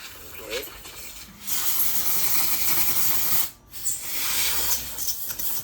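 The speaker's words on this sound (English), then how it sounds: "let me spray this out, make sure there's no water still in it" Bursts of pressurized air spraying water out of a Motorola XTS5000R radio hiss loudly, one long blast, a brief pause, then another, with faint talk in the background.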